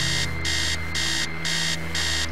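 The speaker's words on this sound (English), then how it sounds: "The sound of an alarm clock blaring." Alarm clock blares in the horror game Stories Untold with rapid, harsh electronic beeps in regular bursts, about four cycles, loud and close over a low background hum.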